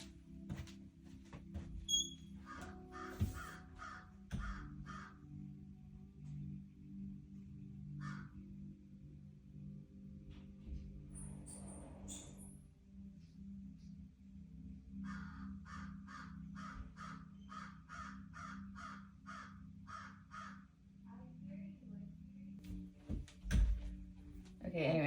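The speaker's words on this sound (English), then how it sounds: "I hear the crows outside." Crows caw outside in short repeated bursts, some spaced apart and one longer run of calls, faint and distant over a low steady hum.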